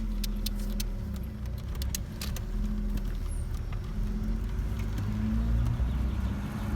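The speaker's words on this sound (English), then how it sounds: "So I'm just gonna take it for a quick drive" Low, steady drone of a 1990 Foxbody Mustang with a swapped 2.3-liter turbo four-cylinder while driving, heard from inside with faint rattles and clicks over the engine hum.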